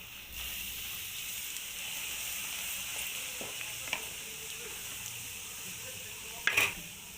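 Chicken frying in a pan for spicy pepper chicken gives a steady close sizzle as a ground mix of cumin, fennel and pepper is tipped in, with a few stirring knocks and a brief louder scrape near the end.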